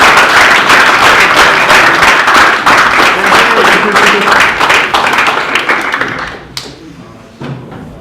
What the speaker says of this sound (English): So let's applaud both of them.